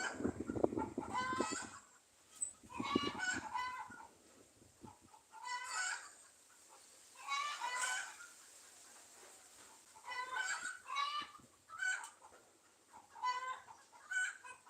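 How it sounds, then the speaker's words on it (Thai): Chickens cluck in short bursts at a rural homestead, faint and somewhat distant, with quiet gaps between the calls and a bit of low murmur at the start. "คุณไก่ กระตากยังเนาะครับ"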